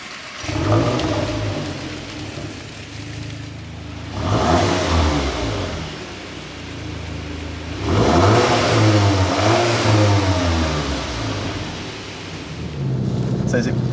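Volkswagen T-Roc R accelerating on a road drive, its engine rising in repeated surges of revving with quieter lulls between pulls, heard from inside the cabin.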